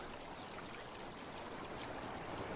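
Steady running water of a stream near a beaver pond, a soft continuous rushing and trickling that stays fairly quiet and unbroken throughout, with no voices.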